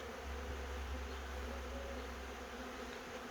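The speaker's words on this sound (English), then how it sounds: "It does look like quite a nice sized swarm" Soft, continuous buzzing hum of a honey bee swarm moving into a wooden bee house, steady and fairly faint with no voices.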